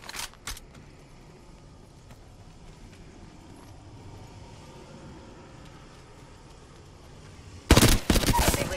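Apex Legends gunfire: a couple of sharp shots at the start, a quiet stretch of ambient game noise, then a loud, dense burst of automatic fire near the end.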